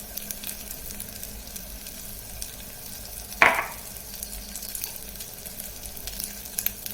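Red chili powder and Malvani masala fry in hot oil, giving a soft, continuous sizzle with a sharper burst as the spices are stirred, faint and close with no talking.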